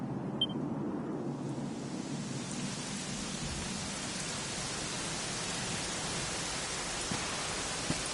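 Steady rain falls in Dragon Quest XI, an even, continuous hiss at moderate level with no talk.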